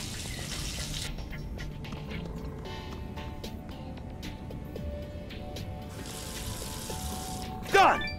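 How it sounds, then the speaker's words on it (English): A pot being filled with running water in the Adventure Time Finn & Jake Investigations video game: a steady tap stream that starts and stops twice over soft background music, ending with a short clunk. "One pot of water, ready for boiling."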